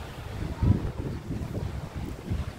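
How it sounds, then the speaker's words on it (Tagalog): Strong wind buffets the microphone at a resort in Quezon Province, a low rumbling roar with a couple of heavier gusts. "Lakas ng hangin."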